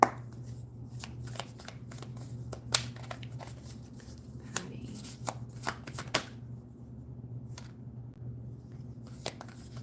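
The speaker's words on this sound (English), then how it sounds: "Patty, I'll throw a card or two, see if there's anything specific. I'm going to switch decks here." A deck of cards is shuffled close up during a mediumship reading, with crisp riffles and sharp snaps of cards repeating irregularly over a quiet room hum, with no talking.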